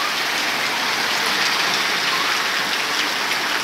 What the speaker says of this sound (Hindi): आज इंद्र देवता आज हमारे गांव शाहपुरिया में बहुत तेज बरसे हैं जी।